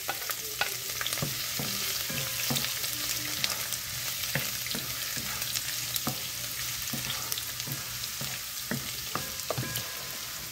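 Garlic fries in hot oil with a steady, close sizzle, broken by scattered sharp crackles and pops and occasional stirring scrapes, with no talk.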